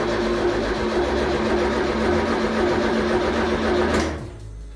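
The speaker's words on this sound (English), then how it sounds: "And the noise you heard buzzing, that's the fuel pump." Electric fuel pump in a car during an engine swap: a steady, close mechanical buzz with a constant hum runs for about four seconds, then cuts off and leaves quieter background noise.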